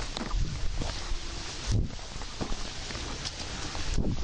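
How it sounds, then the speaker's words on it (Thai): Rain falling on the foliage of a fruit orchard with mangosteen trees, a steady broadband patter with scattered louder drops and a few bumps of wind, no talking. "ฝนตก"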